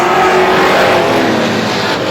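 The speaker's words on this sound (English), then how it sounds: "Goes low on the 71 of Hannaford and takes the lead" Vintage race cars roar around Star Speedway during a heat race, a loud continuous engine drone filling the whole moment without a break, close and dominant.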